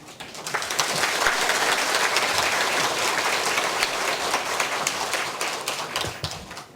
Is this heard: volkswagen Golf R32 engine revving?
no